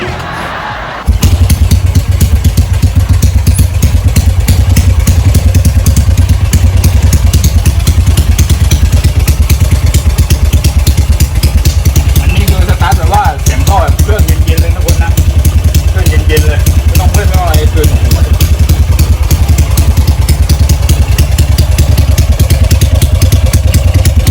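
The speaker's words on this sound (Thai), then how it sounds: "ฟังเสียงต่อเลย ไม่รู้ว่าจะสตาร์ทติดไหมครับเพราะว่ารถไม่ได้สตาร์ทมาประมาณ 2 ชั่วโมงนะ" A race vehicle engine, left sitting unstarted for about two hours, catches and runs loud and close with a deep steady roar and throttle blips, while a voice talks over it partway through.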